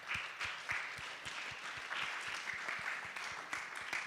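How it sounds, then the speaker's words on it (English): An audience at a children's summit in Kenya applauds steadily, a dense wash of clapping that holds evenly throughout, fairly distant in the hall. "let's give him a round of applause"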